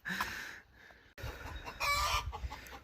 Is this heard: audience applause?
no